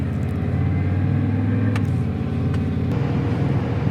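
A dually pickup truck on new tires cruises steadily along a highway at about 67 mph, giving a constant low engine drone and road rumble heard from inside the cab with no talking.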